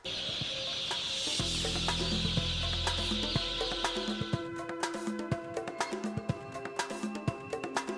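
Chicks in a broiler hatchery, taken from the hatching machines into the chick room, make dense continuous cheeping, with a low mechanical hum and hiss underneath in the first half and many sharp peeps throughout.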